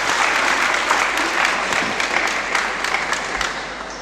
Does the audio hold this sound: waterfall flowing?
no